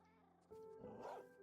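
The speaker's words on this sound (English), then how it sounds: "Gotta listen to the cats again now. And dogs." A cat meows once in Minecraft, a clear, drawn-out tonal cry that starts abruptly mid-clip and slides downward over quiet game ambience.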